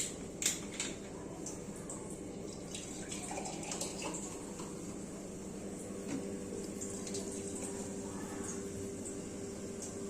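7 Up soft drink poured from a bottle after dinner, a soft, steady fizzing pour with a gentle liquid trickle at low volume and a faint background hum.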